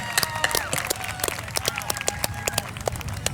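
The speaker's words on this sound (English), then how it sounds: "Give them a round of applause one more time" Audience applause for graduates at a Juneteenth celebration in Granby, many hands clapping in an irregular wash with a few louder individual claps standing out, moderately close.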